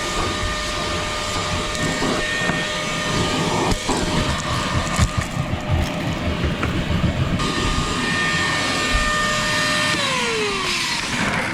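Vacuum cleaner working over the back shelf of a Holden VN Commodore, a loud continuous whine with a steady hum and brief pitch shifts and bumps as the nozzle moves, no voices.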